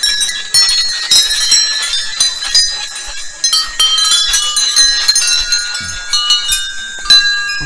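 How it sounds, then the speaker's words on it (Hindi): Temple bells ring over and over at a temple in Lansdowne, bright metallic clangs overlapping in a continuous, close jangle. "ये देखो घंटी बजाते हैं।"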